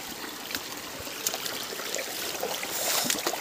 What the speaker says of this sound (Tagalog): Yung naririnig mo yung agos ng tubig.